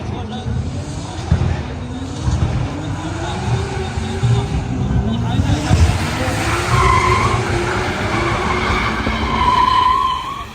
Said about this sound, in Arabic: خلينا نشوف الحين كيف شكلها وهي درفت